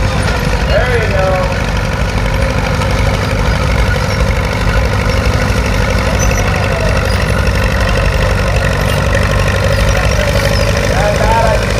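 A pulling tractor at an old-time tractor pull roars at full throttle, a loud continuous engine drone with a knocking edge that holds steady throughout, while a commentator talks over it.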